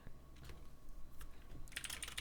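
Rapid clicking of a computer keyboard in a quiet room as someone types terminal commands, steady uneven keystrokes close up, with a brighter burst of clacking near the end.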